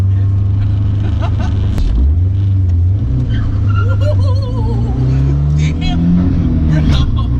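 A Honda Civic EF sedan with a B20 VTEC engine accelerating hard, a loud, close engine drone rising in pitch through the gears, heard from inside the car with people talking over it.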